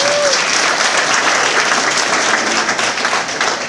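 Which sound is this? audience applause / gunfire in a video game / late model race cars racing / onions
audience applause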